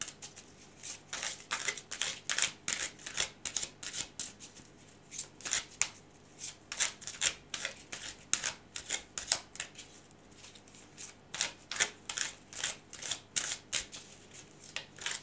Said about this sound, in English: So let's just shuffle several more times.